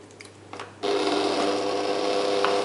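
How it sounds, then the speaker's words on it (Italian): A stand mixer switches on after a few soft clinks and settles into a loud, steady motor whir while mixing choux pastry dough for cannoli. "Aziono l'impastatrice"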